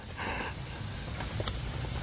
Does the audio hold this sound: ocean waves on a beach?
no